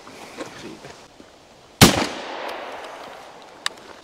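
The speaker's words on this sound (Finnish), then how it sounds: "Mä ammuin vähän vasemmalle, mä huomasin." A single loud Benelli shotgun shot cracks out mid-clip at outdoor target practice, followed by a long decaying echo, with quieter background noise and a faint pop later.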